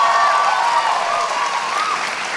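A crowd's sustained applause fills the room, loud and continuous, with faint tonal sounds riding over the broad wash of clapping.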